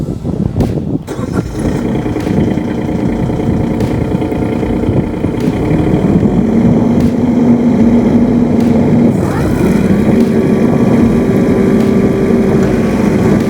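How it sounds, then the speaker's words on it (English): A Skid Pro Attac mini snow blower on hydraulic power runs steadily with auger and fan turning, a loud continuous engine-like drone that rises slightly in pitch partway through. "once the oil is flowing through the valve block and the blower is running, the auger and the fan"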